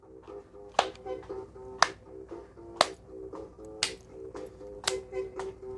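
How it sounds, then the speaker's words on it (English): Rhythmic hand claps made while moving the hands round in a circle during a children's music movement game, spaced about one per second over steady background music. "Can we clap round in a circle?"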